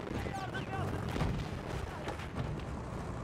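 Enemy gunfire and booming battlefield blasts in Battlefield 1, a dense, rumbling barrage with scattered sharp shots and distant whistling, voices faintly mixed in.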